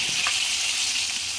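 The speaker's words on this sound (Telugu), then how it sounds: "సో ఇలా మొత్తం అన్నీ కూడా ఫ్రై చేసుకోండి." Pomfret fish fries in a pan with a steady, close, hissing sizzle and a few faint stirring touches, no voices.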